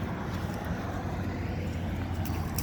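A truck drives by outdoors, a broad steady roar of engine and road noise at moderate level, heard on its own without voices.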